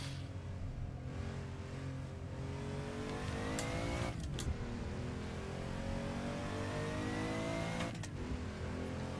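A Porsche 959 in a racing video game laps the 2000s Silverstone circuit, its engine droning steadily and rising in pitch, with brief sharp shifts and dips as it changes gear. The engine runs alone throughout, with no talk.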